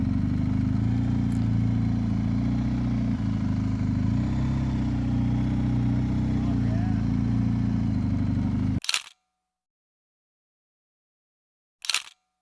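Motorcycles ride along the Tail of the Dragon road with a loud, continuous low engine rumble. The sound cuts to silence, and a brief burst follows later.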